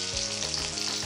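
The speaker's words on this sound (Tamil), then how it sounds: "பச்சை மிளகாய் போட்டு கொஞ்சம் தள்ளி நில்லுங்க, இல்லைன்னா மேலே சிடியும்" Green chillies spluttering and crackling in hot oil, a dense, steady close sizzle with no voices.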